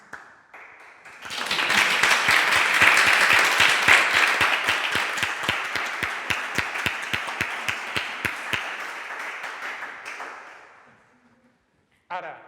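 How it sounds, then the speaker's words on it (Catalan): An audience applauds after an art talk, a burst of clapping that swells, settles into steady rhythmic beats, then fades out, with brief talk before and after. "Volem algun aplaudiment curt?"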